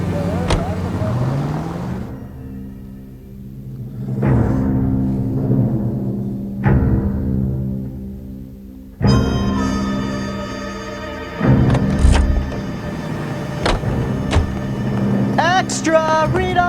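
A car engine humming and revving in the video game L.A. Noire, rising and falling with gear changes over steady road rumble, with a voice speaking briefly over it.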